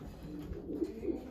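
Young pigeons coo softly inside a new loft, a few low murmuring calls rising near the middle of a quiet indoor background.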